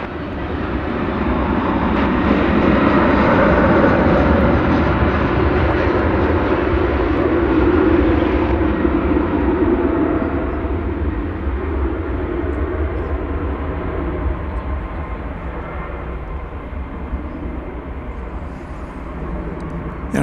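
A jet airliner takes off at Dallas Fort Worth Airport, its broad engine roar loud and sustained for about twenty seconds before easing slightly as it climbs away.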